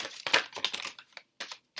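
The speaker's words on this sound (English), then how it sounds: "Alright, I'm going to stop shuffling." Tarot cards are shuffled in short, papery bursts of riffling and sliding, close and fairly quiet, with brief pauses between the bursts and no talking.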